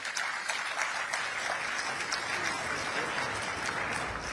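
Steady applause from a conference audience at COP28, dense clapping sustained at an even level for several seconds with no voices standing out.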